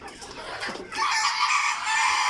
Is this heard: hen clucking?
yes